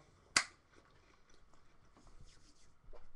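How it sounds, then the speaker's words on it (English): Close crunch of someone biting into battered pizza, one sharp loud bite followed by quieter chewing. "so you're going to be hearing me eat."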